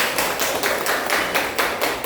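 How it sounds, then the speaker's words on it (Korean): Audience at a sales-training lecture clapping for visiting guests, a steady dense round of applause from a crowd held at a constant level for the full couple of seconds. "손님들께 박수 한번 드릴까요?"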